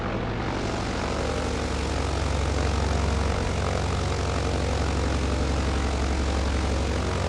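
Britten-Norman BN2 Islander propeller airplane engine droning loudly and steadily from close by, a constant thrumming roar with a slight shift in pitch midway.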